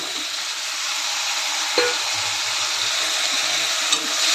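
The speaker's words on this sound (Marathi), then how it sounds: "कारल्याच्या फोडी घालून 1-2 मिनटं परतून घेऊया." Bitter gourd pieces frying in a pan with onion and tomato, a steady close sizzle throughout with two brief sharp clinks of stirring.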